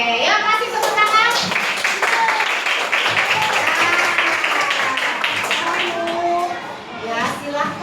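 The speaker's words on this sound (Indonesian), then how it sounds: "ya kasih tepuk tangan" Children in an Indonesian primary classroom during a fifth-grade Christian religion lesson clap together, a dense run of hand claps lasting several seconds, with kids' voices and chatter mixed through it and a teacher speaking.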